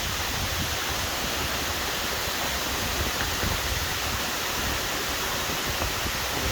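Grey Mares Waterfall near Kinlochleven, Scotland, roars as a dense, unbroken rush of falling water, loud and close, with no talking.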